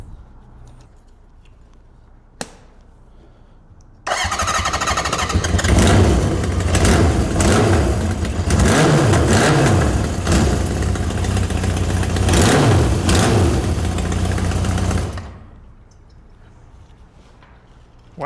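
A Honda CB750F motorcycle engine with a nasty exhaust leak cranks, fires up loudly and settles into a steady rumbling idle for several seconds before cutting off, leaving quiet.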